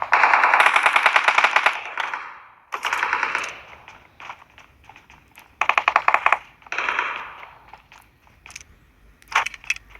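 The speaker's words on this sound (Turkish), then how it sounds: "Uzi." Bursts of Uzi submachine gunfire in the PUBG battle royale game, loud rapid rattling volleys with brief gaps, several separate strings across the stretch.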